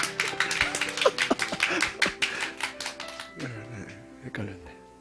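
A church congregation applauding, lively clapping for about three seconds before tapering off, followed by someone speaking.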